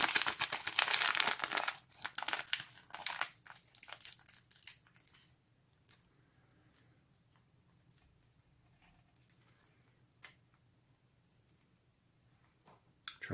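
A 1984 US MRE cocoa beverage powder packet is torn open at its notch with loud, close crinkling and ripping of the foil-plastic pouch, then quieter scattered rustles and small ticks.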